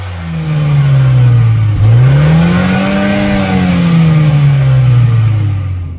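A 2023 Renault Austral engine revs in sport mode, loudly climbing, dipping, then climbing again and gradually winding down, one sustained drone with rising and falling pitch, no voices.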